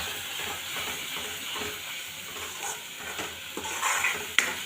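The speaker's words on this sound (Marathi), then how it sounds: "मसाले टाकल्यानंतर छानपैकी व्यवस्थित परतून घ्यायचे आहे." Spices for chole are stirred and sautéed in a pan, a continuous soft sizzle with scraping and clinks of a utensil against the pan, close and alone.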